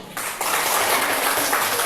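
A group of students applauds their geometry group classmates after a Pythagorean theorem demonstration, a dense wash of clapping from a crowd that rises sharply and holds steady, with no voices over it.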